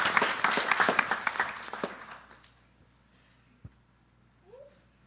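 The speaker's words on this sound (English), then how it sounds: "Give them a round of applause." A round of audience applause at a Sunday morning satsang for the children of the Bal Bihar program, loud at first and thinning into scattered claps before fading to near silence with a few faint stray sounds.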